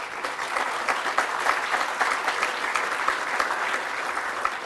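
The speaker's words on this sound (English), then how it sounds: "Round of applause for them." An audience at a university campus ground blessing claps steadily for the regents, dense applause holding at a constant level throughout without a break.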